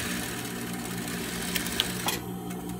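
A sewing machine stitches a triangular gusset with a steady, continuous mechanical whir, close and even, with a few light clicks near the end.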